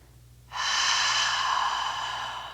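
During a full-body yoga stretch session for golfers, one long, steady breath is heard up close after a moment of quiet.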